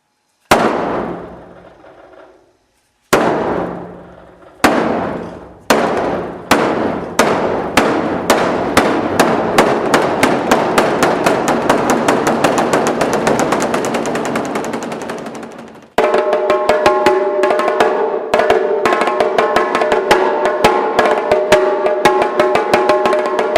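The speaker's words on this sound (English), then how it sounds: "So the odaiko, it's mostly played as a solo piece." An odaiko, the largest and deepest taiko drum, is struck hard and alone. A few widely spaced booming hits accelerate into a rapid continuous roll that then changes to a denser, ringing pattern.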